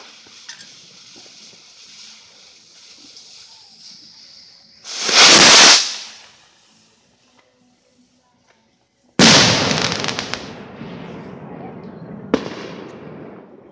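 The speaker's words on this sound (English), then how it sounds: "Rocket." A firework rocket shoots up with a loud, rising whoosh, then after a few seconds of quiet bursts with a sharp bang followed by crackling that fades. Outdoors, with voices faint in the background.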